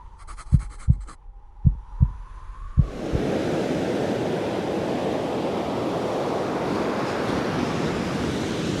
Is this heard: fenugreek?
no